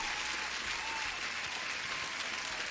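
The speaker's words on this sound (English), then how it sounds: "Huge applause, my man." Applause from a crowd, set off as a stream alert during a live futures trading session, fills the clip as a steady, dense wash of clapping at even loudness without a break.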